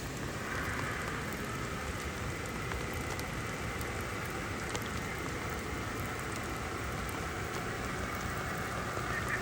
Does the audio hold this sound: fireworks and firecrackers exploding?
no